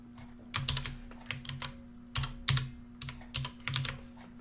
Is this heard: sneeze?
no